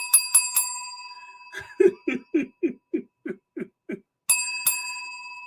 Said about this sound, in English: Ding, ding, ding with the bell. I got a new bell.